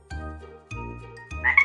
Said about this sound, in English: La rana, the frog.